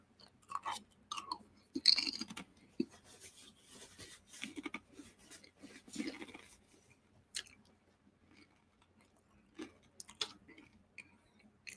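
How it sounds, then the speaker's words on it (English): Pringles potato chips are chewed close to the microphone, giving irregular bursts of sharp crunching and biting with quiet pauses between them over nearly twelve seconds. "You guys hear me crunch? I'm eating on some Pringles too."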